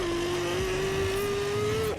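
A car in a video game drives with a loud, sustained engine tone holding a nearly constant pitch, then drops sharply at the very end as the throttle cuts.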